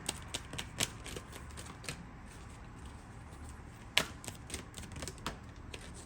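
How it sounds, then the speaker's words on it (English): Cards from an Energy Oracle deck are shuffled and drawn, giving quiet, close, crisp flicks and taps in irregular bursts, with a sharper snap near the middle. "Let's draw one more card here."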